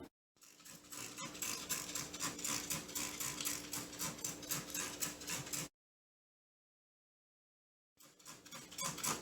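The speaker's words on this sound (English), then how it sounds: "what I'm doing now is I'm just spraying down the filled up pots" Rapid repeated hissing sprays from a spray bottle moistening soil in filled seed pots, close by, pulsing in quick succession for several seconds, a pause of silence, then more spraying resumes.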